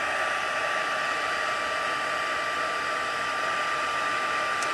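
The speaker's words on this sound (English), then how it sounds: "You don't have to use a heat tool to dry it." A heat tool drying watercolour paint on a handmade card, blowing a loud, steady, close airy whir with a high tonal whine that holds unchanged throughout.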